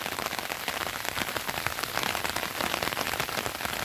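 Steady rain pours onto a garden in northeastern Brazil, a dense, continuous hiss of drops on leaves and soil, close and even throughout with no voices.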